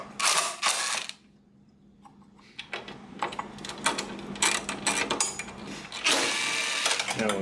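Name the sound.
undoing 10 mm battery hold-down bolts, 2020 Cadillac XT6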